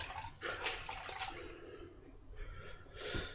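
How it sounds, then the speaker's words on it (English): A towel dipped and swished in a basin of cold water during a shave routine, soft splashing and trickling in a few irregular bursts, close and fairly quiet. "I'm going to take this towel, I'm going to dip it in this cold water."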